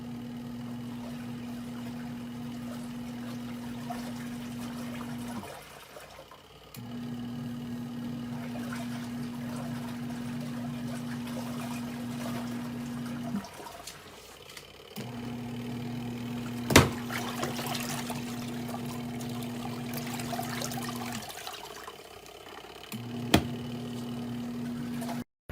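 A portable washing machine runs with water inside, its motor humming steadily in long cycles that pause briefly every few seconds, with water sloshing and a couple of sharp clunks.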